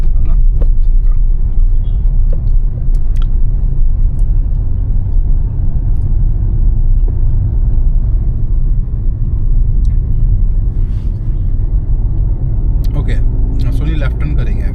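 A car in third gear on a practice drive gives a loud, steady low engine and road rumble throughout, with an instructor's voice speaking over it.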